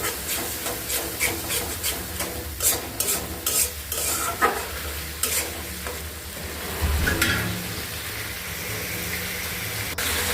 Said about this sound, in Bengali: এখন হচ্ছে ভালো করে নাড়াচাড়া দিয়ে একটু কষায় নিব।